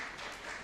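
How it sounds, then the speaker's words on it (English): Audience at an insurance brokers' conference in Mbarara, Uganda, clapping in a large hall, a steady, distant wash of many hands without any break. "Can you clap?"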